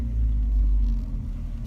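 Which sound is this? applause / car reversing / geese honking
car reversing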